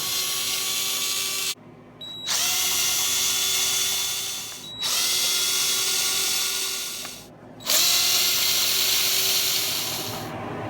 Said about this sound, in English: you have a bunch of screws all the way around, so you're gonna want to have to start going and pulling those.